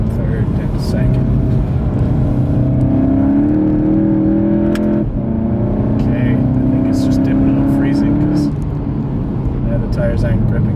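A car climbs a mountain road to Mary's Peak under hard throttle, its engine droning loud and steady with rising harmonic pitch sweeps, a brief dip near the middle as it shifts down through third and second.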